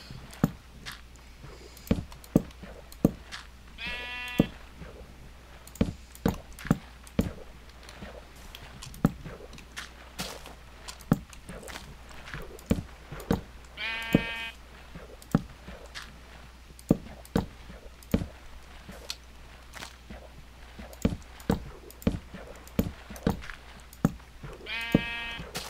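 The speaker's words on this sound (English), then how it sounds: "Isn't that sheep annoying? I think I should slay the sheep." Sheep bleating in Minecraft, three short wavering bleats spaced several seconds apart over a stream of sharp clicks and footstep-like taps, with no talking.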